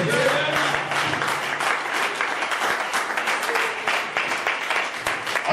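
Congregation applauding in a church during a French sermon, steady dense clapping filling the room with a voice calling out over it.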